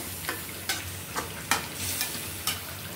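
Spoon stirring potato curry in a pan, a series of distinct scraping clacks roughly every half second over a soft continuous sizzle, close by with no voices.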